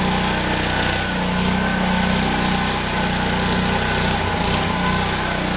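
A Honda 21-inch self-propelled walk-behind mower engine runs at high revs with its drive and blades engaged, making a loud, steady, buzzing drone close by with no break throughout.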